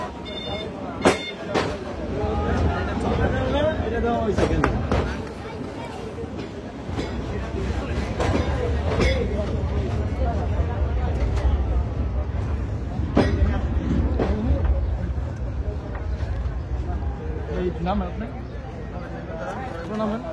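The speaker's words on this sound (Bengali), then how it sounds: "আমাদের ট্রেনটি এখন ফতুল্লা রেলওয়ে স্টেশন প্রবেশ করছে" Narayanganj commuter train pulling into Fatullah railway station, loud rumbling wheels and clattering cars with sharp metallic clunks and squeals as it slows, someone talking over it.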